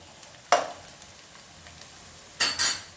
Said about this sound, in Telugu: ఇప్పుడు మనం దీనిపైన మళ్ళీ మూత పెట్టుకుందాం